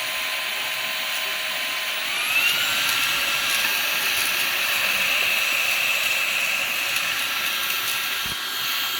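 A loud, steady Perrysmith vacuum cleaner motor whine roars without pause, a high-pitched jet-like rush with a tone that rises slightly partway through, close by.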